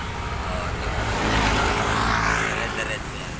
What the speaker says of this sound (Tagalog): may mga sasakyan pa na dumadaan